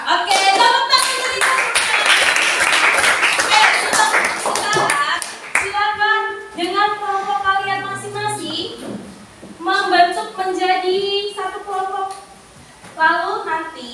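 Schoolmates in a classroom clap together in a loud burst of dense applause that lasts several seconds, followed by speech and singing from a teacher and children.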